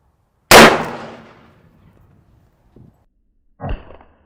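.44 Magnum gunshot striking a steel anvil: one sharp, loud crack with a ringing decay, a faint tick, then a second smaller metallic impact about three seconds later.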